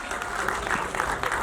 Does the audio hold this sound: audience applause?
yes